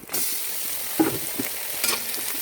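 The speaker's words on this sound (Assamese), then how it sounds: "ইয়াৰ পিছত পিঁয়াজ ভাজি হৈ গ'ল, এতিয়া মাংসটো ঢালি দিওঁ।" Local chicken meat is tipped into a pan of fried onions and bursts into a loud, close sizzle that carries on steadily, with a few stirring knocks and scrapes and no speech.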